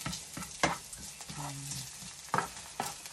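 Garlic is stirred and sautéing in a hot pan, with close scraping stirs and sharp clatters over a light, intermittent sizzle, and no talking.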